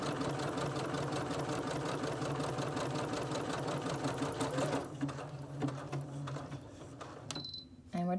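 A sewing machine stitches buttonholes in rapid, even mechanical chatter for about five seconds, then slows and runs more loosely before stopping with a small clack, close and clear with no talk.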